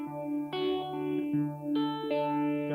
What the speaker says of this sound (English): Got my phase shifter on.